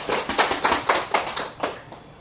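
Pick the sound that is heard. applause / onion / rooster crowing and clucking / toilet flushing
applause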